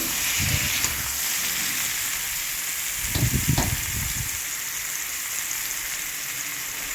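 Vegetables for shukto fry in a pan under a constant hissing sizzle, with low scraping thumps from stirring near the start and again in a brief cluster in the middle.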